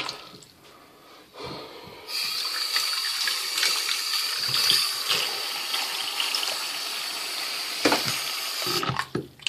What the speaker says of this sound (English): this is the sink. So, you see how the water, let me show you how the water shuts off